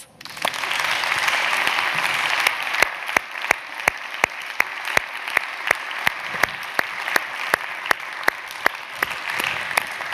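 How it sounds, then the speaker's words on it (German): Applause at the Obermayer Awards 2023 ceremony, a crowd clapping steadily at first, then settling into sharp, loud, rhythmic unison claps that beat evenly for several seconds. "Ein Applaus."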